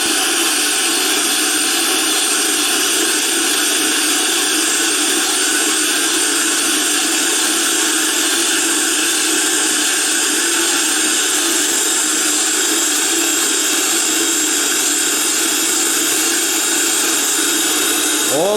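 Steady, loud broadband hiss and whine of a sharpening stone wheel being trued without pausing, continuous and unbroken throughout with no talk.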